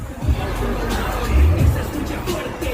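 May Day protest crowd in Chicago's West Loop, a close, continuous hubbub of many voices with scattered louder shouts and bumps.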